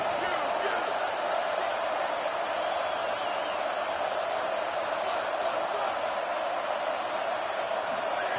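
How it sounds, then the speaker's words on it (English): A loud college football stadium crowd roars steadily throughout, a dense, continuous wall of cheering urging on the defense at a Clemson game. "Listen to this crowd just shaking the girders of this place, trying to help their defense."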